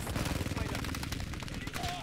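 Rapid automatic gunfire from a shooter video game rattles continuously and densely at moderate loudness, mixed with game noise, with no pause for the whole stretch.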